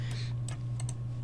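Keys on a computer keyboard click in a short burst of a few quick taps during CAD modelling work, heard close over a low steady hum.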